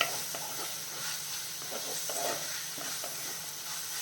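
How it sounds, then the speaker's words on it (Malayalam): Onions with ginger, garlic and curry leaves sauté in coconut oil over a medium flame for a crab roast, giving a steady close sizzle with occasional soft stirring scrapes throughout. "അപ്പോൾ നമുക്ക് ഒരു മീഡിയം ഫ്ലെയിമിൽ ഇട്ടിട്ട് നല്ല രീതിയിലൊന്ന് വഴറ്റിയെടുക്കാം."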